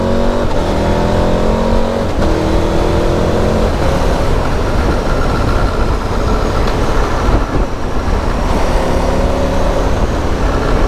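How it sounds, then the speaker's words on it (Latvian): A 2026 KTM 1390 Adventure S motorcycle pulls hard under steady, loud engine noise from the rider's position, with quick-shifted gear changes briefly breaking the rising drone every couple of seconds over heavy wind rush. "quick shifters strādā gan uz augšu, gan uz leju"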